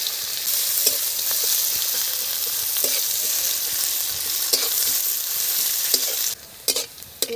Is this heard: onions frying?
yes